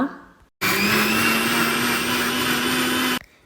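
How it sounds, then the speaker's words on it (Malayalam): A mixer grinder blending yogurt with sugar and cardamom whirs loudly and steadily for about two and a half seconds, then cuts off, with quiet moments before and after. "മിക്സിയിൽ നന്നായിട്ട് അടിച്ചെടുക്കുക"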